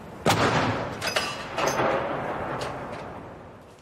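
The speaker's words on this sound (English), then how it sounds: "A 21-gun salute was then carried out to welcome the new king to Edinburgh." Booming artillery rounds of a 21-gun royal salute in Edinburgh welcoming the new king, several heavy blasts spaced a second or so apart with long rolling echoes fading across the city.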